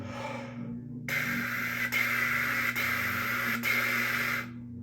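A steady hiss of breath blown through a trumpet, with the airflow interrupted by a few soft tongue articulations, over a low sustained hum.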